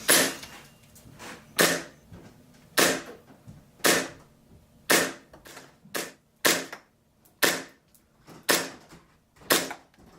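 KJW KC02 airsoft gun running at 110 PSI fires 0.2 gram BBs in a steady string of about fourteen sharp, close cracks spaced roughly a second or less apart, with quiet gaps between shots and no talking.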